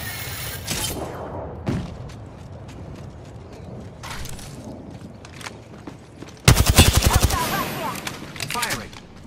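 Enemy gunfire in a match of Apex Legends: scattered shots and short bursts early on, then a loud, rapid automatic volley that dominates the last few seconds before trailing off.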